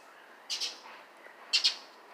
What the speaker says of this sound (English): there's a whole bunch of birds